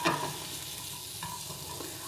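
Mushrooms sear in a hot pan, a soft continuous sizzle broken by gentle stirring scrapes, close and fairly quiet.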